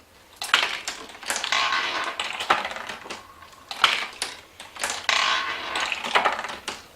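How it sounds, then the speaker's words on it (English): Marbles drop one after another through a toothpick-balanced escapement in a homemade multiplication machine, giving a string of clattering, rattling knocks in irregular bursts, fairly close with no talking. "One marble releases the next one until we run out of marbles."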